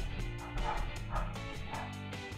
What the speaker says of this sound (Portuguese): A Luna late, a Pandora late.